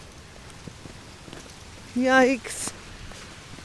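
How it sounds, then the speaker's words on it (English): Rain falls steadily outside by a garage, a soft continuous hiss throughout, broken by one brief spoken exclamation partway through. "it's raining."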